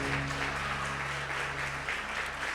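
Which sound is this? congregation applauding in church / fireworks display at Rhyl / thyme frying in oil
congregation applauding in church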